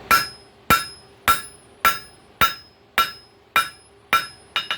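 Hammer blows ringing on an anvil while forging a cold chisel from a coil spring, about nine sharp metallic strikes at a steady rhythm, each with a short ringing decay, ending in a quick flurry of lighter taps.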